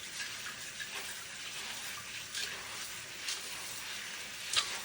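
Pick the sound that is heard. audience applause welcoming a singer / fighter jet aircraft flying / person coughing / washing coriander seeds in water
washing coriander seeds in water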